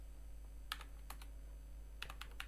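Keys clack on a computer keyboard as C program code is typed, in a few quick clustered bursts separated by pauses over a quiet background hum.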